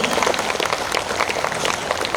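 Students and parents clapping together at a school annual day function, a dense, steady patter of many hands filling the whole stretch without letup.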